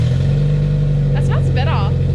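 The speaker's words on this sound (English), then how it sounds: "I want to start it up and I want to hear it. So I'm gonna give it a start." A Nissan S15 with a new exhaust holds a steady, loud engine drone throughout, with a brief voice rising over the rumble partway through.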